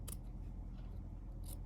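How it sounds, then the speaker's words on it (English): Two quick crisp scissor snips trimming quilting fabric along a stitch line, one at the start and one near the end, over a steady low background hum. "We're going to trim this extra piece just with the scissors."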